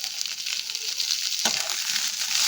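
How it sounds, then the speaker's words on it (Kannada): Cauliflower, peas and potato fry in a pan with turmeric and coriander leaves, giving a steady close sizzle with a brief stirring scrape partway through and no voices. "ಫ್ರೈ ಮಾಡ್ಕೊಳ್ಳೋಣ."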